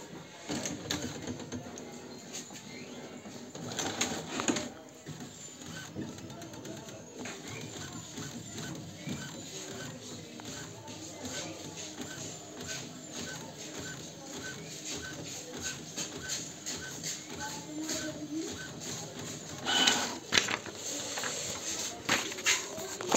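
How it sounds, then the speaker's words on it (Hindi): A Brother DCP-T310 inkjet printer prints a page after an ink refill, giving a steady mechanical whirring chatter with rapid clicks and carriage shuttling. It runs up close and continuously for over twenty seconds, with a few louder clunks and no speech. "प्रिंट आउट चेक कर लेते हैं इसका"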